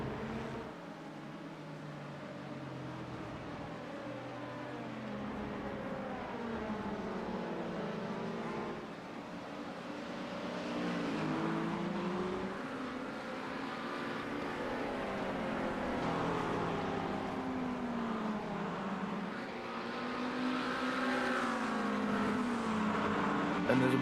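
LMP2 prototype race cars at Road America, engines droning and rising and falling in pitch as they accelerate and pass, a sustained mid-distance roar with a commentator talking over it.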